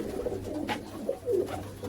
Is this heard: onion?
no